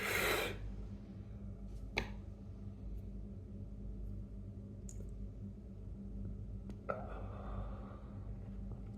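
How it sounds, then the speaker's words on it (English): Hiccups after eating superhot chillies, a few sharp isolated jolts spaced several seconds apart over quiet low background rumble, close and fairly faint. "See if I can calm this hiccup down now."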